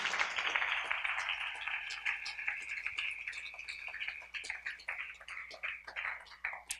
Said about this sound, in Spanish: Dele palmas al Señor con todo su corazón